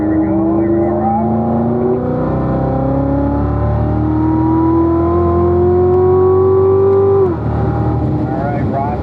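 A car on a race track accelerates hard out of a turn, its engine note climbing steadily through the gears with a brief drop at a shift before rising again, loud and close.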